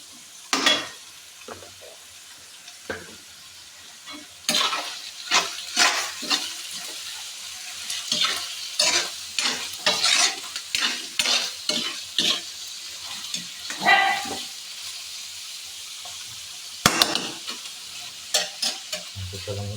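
Beef innards (laman loob) for papaitan sautéed in a pan, with a steady sizzle under a long run of repeated scraping stir strokes, close and fairly loud, without talk.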